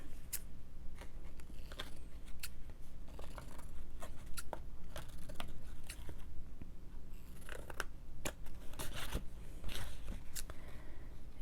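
Scissors trim a paper journal signature cover in a series of close, crisp snips and crunchy cuts, with rustling paper handling between them and no talking.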